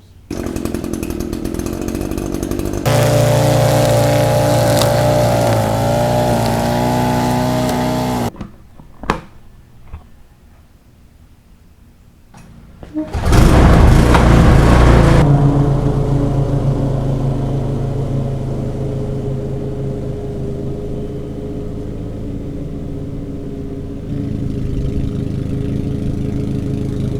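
Rotary lawn mower cutting overgrown Bermuda grass, a loud, close engine drone that runs steadily, drops away to near quiet for a few seconds, then roars back up and keeps running at a slightly lower, even pitch.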